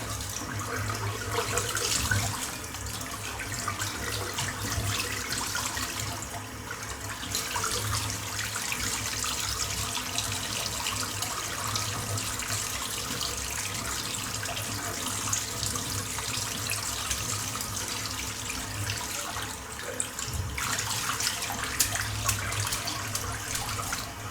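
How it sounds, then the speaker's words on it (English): A tap runs steadily as a lathered shaving brush is rinsed under it, a close, constant splashing water stream with small shifts in flow and no speech. "So I've rinsed the brush out."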